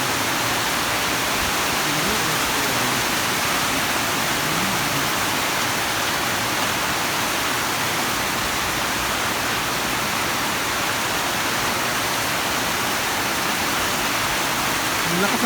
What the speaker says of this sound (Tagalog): Lakas ng ulan, sobra.